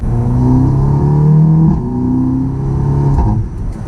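An Audi TTS Mk2 engine revs up in a steady, loud rising drone, easing off briefly before climbing again, with no talking over it.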